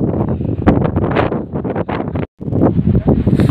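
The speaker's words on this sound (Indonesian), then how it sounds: "Angin gede coy." Strong wind buffets the microphone at the crater of Mount Ciremai on the Palutungan trail, a loud, continuous roar of gusts with one brief drop-out, close and alone.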